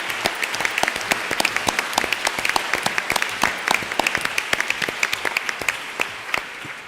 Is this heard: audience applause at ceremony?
yes